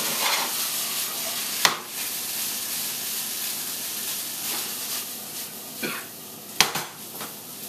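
Fried rice with Spam is tossed in a hot pan with soy sauce, giving a steady close sizzle and a few sharp clanks of utensil against pan.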